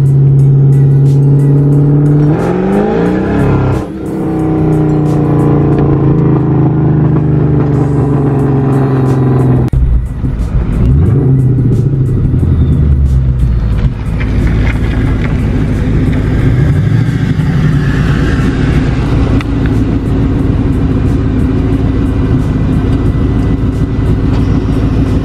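A Mustang GT drives along a road: a loud, steady engine drone heard from close by, with pitch rising and falling as the car shifts and changes speed.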